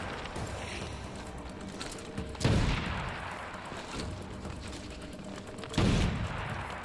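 Gunfire rings out in the video game Assassin's Creed Shadows: two loud, sharp shots about three seconds apart, each with a ringing tail, over a low ambient game bed with faint mechanical clicks.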